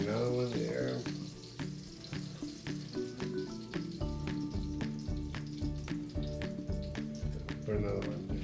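Parmesan-crusted chicken sizzles and crackles in a frying pan, a steady close fry with clinks of utensils and a pan being handled, punctuated by brief rhythmic thuds.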